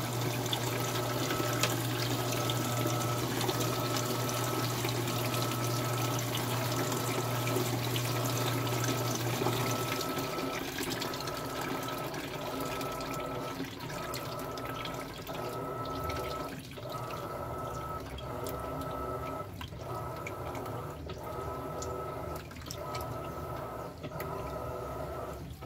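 Electrolux LPR17 top-load washing machine agitating a load in water, a steady churning slosh with rhythmic swishing strokes repeating about every second in the latter half, continuous and fairly close.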